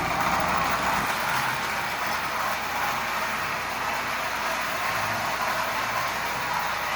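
Repainted Marx toy army train with a 999 motor running on its track, a steady broadband whirring and rolling rumble that continues evenly throughout without talk.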